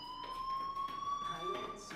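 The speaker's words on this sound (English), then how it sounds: "Hey, do you hear that fire alarm?" A school fire alarm in the video game Life is Strange rings as a steady, piercing electronic tone, moderately loud and continuous, with faint speech and background sounds beneath it.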